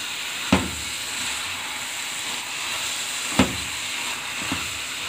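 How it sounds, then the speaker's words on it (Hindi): Carrot halwa with cardamom powder roasting in a pan: a steady soft sizzle and hiss throughout, broken by a few sharp clanks of a spoon or spatula against the pan. "अब इसको हम अच्छी तरह से भून लेंगे हलवे को"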